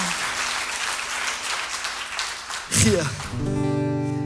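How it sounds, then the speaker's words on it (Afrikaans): A church congregation claps during an Afrikaans-language morning service, a steady wash of applause for close to three seconds before organ or keyboard music swells in beneath it. "gee hom 'n bietjie hande klap"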